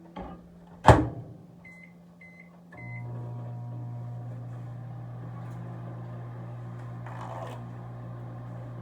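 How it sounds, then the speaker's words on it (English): Microwave oven melting butter: a door clunk and three short beeps, then a steady low hum of the oven running on, close and unbroken. "Let me check this microwave real quick."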